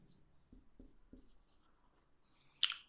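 Marker or chalk writing on a board in a classroom lecture, a few short faint scratchy strokes in quick bursts with quiet speech in between.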